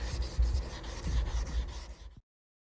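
Wet sanding a foggy plastic headlight by hand with 2000 grit sandpaper: steady, close back-and-forth rubbing and scuffing strokes for about two seconds, then abrupt silence.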